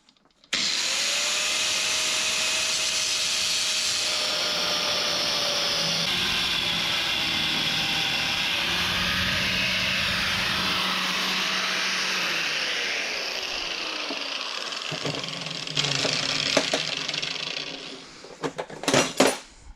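A power tool cuts the top off a metal strut hat on a 2015+ Mustang during an angle kit install, a loud steady whining grind for about fifteen seconds, then scattered metallic clanks and knocks.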